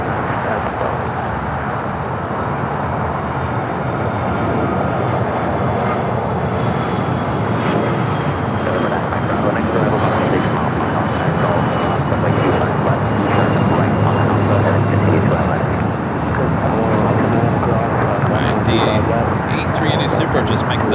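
A large airliner, a Super heavy jet, taxis onto a taxiway at Los Angeles LAX airport, its engines giving a loud, steady roar throughout, with a voice talking over it.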